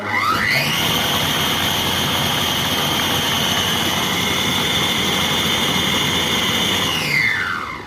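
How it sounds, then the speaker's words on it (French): A Compact Cook Pro food processor runs at high speed: a loud, steady whirring motor whine that ramps up, holds evenly for several seconds, then winds down at the end, with no talk. "Je mets pause, je mets la vitesse à 7. Encore pause, vitesse 8."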